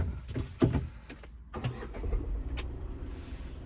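A Tata Tiago with a 3-cylinder engine starts up: a few cranking thumps, then the engine catches and settles into a low idle.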